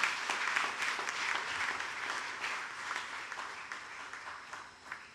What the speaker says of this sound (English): A big round of applause for our local doctors and nurses.